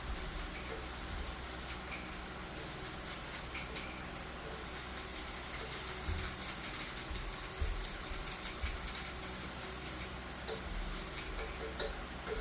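Clear coat sprayed onto a small sci-fi tabletop model building, heard as steady hissing bursts that start and stop several times, with brief pauses between passes and no talking.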